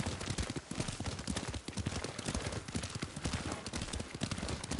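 Rapid hoofbeats clatter continuously as a horse gallops in the video game Ghost of Tsushima, with dense rhythmic thuds and some clashing noise mixed in, loud and close throughout.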